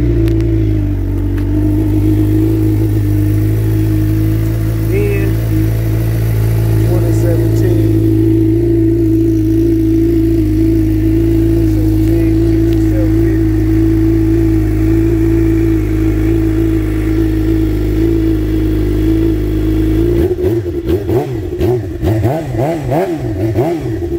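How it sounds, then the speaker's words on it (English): A Suzuki GSX-R 750 sportbike fitted with an M4 exhaust idles loud and close with a steady throbbing rumble, then is revved hard near the end with sharp, rapid climbs in pitch. "I still got my M4 exhaust that I had before, but I'm gonna crank her up"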